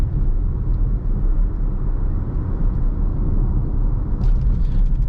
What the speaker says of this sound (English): Road noise is fairly quiet, about average.